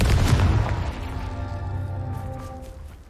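A Confringo explosion spell goes off in Hogwarts Legacy, a deep booming blast at the start with a rumbling, ringing tail that fades over a few seconds.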